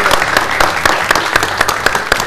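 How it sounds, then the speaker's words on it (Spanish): An audience at a live show claps in a loud, close, rhythmic burst, with many hands striking together in a brisk, steady beat for a couple of seconds. "Vamos otra vez. Tu aplauso."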